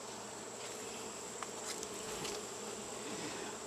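A steady, dense hum of many honey bees buzzing close by at the hive, continuous and even throughout with no talking.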